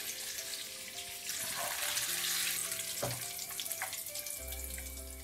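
Chicken legs fry in a pan of oil with a steady broad hiss and crackle, joined by clinks and scraping of a utensil and a low hum near the end.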